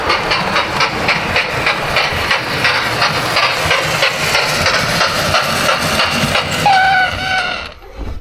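Märklin toy steam locomotive replica from 1970 running with continuous chuffing hiss and rhythmic clickety-clack, steady and close, fading out at the end.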